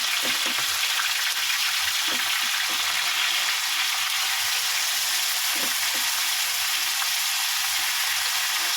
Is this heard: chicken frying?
yes